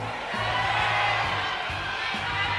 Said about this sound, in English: We're getting a lot of cheers from the crowd.